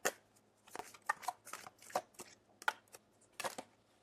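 Tarot cards are shuffled and drawn by hand, giving a run of crisp, close riffling snaps and slaps in quick irregular bursts against a quiet background.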